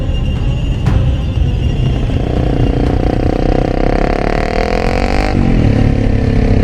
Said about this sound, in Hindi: तभी अचानक एक दूसरा आदमी बाइक लेकर वहां आता है और सीधे जीतू के दोस्त के सामने आकर अपनी बाइक रोक देता है।